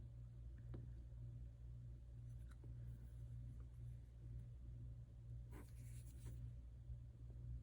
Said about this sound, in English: Now I'm going to do it with my pen, my nib, and the nib I'm using is the G Leonardt.